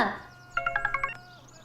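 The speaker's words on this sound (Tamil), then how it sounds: "ஃபோன். அட்டெண்ட் பண்ணுங்க." A phone rings in a Tamil horror thriller scene: a quick series of about six bright, evenly spaced electronic ring tones over quiet room tone, then the ringing stops.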